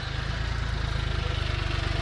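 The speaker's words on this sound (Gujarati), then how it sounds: "થોડીનું જો લોડર હાલે છે, આપણું ટ્રેક્ટર ભરાય છે." A loader works nearby, loading a tractor trailer on a dusty site, its diesel engine idling with a steady low rumble and rhythmic throb that stays even and fairly loud throughout.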